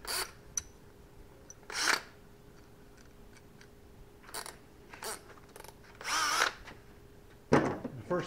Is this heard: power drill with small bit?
yes